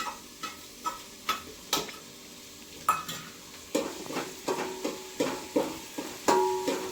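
Onion tossed into a sizzling pan for bhugda batata gravy, then a run of sharp, evenly spaced spatula taps and stirring scrapes against the metal over a soft frying hiss, close and clear with no talking.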